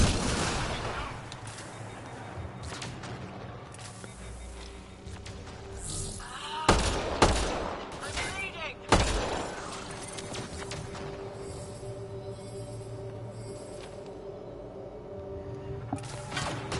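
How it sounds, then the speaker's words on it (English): Sporadic weapon fire and heavy thuds from the Mass Effect Andromeda video game ring out over a steady background hum, with several sharp louder shots in the middle. "Taking pot shots at these dudes."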